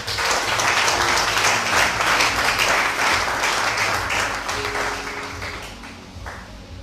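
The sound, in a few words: applause in church after call to acclaim the Lord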